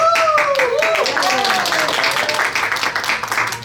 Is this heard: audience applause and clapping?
yes